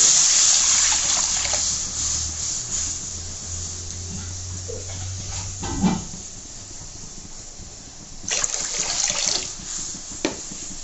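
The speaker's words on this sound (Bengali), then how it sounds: "আমি এখন কড়াইতে পানি দিই।" Water pours into a wok on a stove with a continuous hissing splash for several seconds, then fades. A few clanks and shorter bursts of pouring follow near the end, with no speech.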